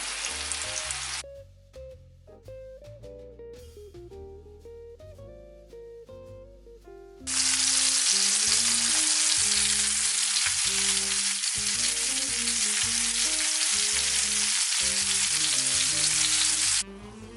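Black fin tuna sears in a hot pan, a steady loud sizzle that kicks in sharply partway through and holds, with soft music playing underneath and no talking.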